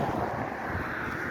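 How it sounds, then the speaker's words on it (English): Wind buffeting a single earbud microphone on a windy afternoon walk, a dense, steady low rumble and roar with no speech. "Kind of windy day"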